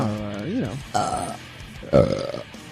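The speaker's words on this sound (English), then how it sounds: "I think that's my first belch back." A deep, drawn-out burp with a wavering pitch, followed by two shorter belch-like bursts; no talking.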